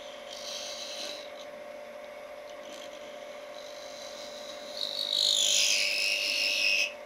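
A small wood lathe turns a mini goblet held in a chuck, giving a steady low motor hum with a scraping, rasping tool cut that grows louder and harsher near the end.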